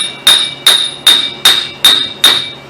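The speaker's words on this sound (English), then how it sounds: "Then you're going to want to pound this axle in a little bit." Hammer pounding an axle into the wheel hub of a 1999-2007 GMC Sierra, six sharp ringing metallic strikes at a steady rhythm, close and loud.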